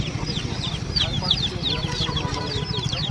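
Roosters at the Ahmedpur poultry market clucking and squawking in repeated bursts, close by, with people talking in the background throughout.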